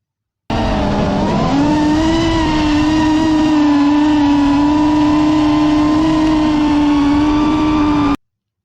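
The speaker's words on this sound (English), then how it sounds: "Dune buggy." A dune buggy engine drones loud and steady for about eight seconds, rising in pitch at the start and then holding a constant high hum before cutting off abruptly.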